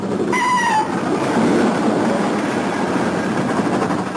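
A train passes close by, a short two-tone whistle blast giving way to a loud, continuous rumble of wheels and carriages rolling past, with no talk.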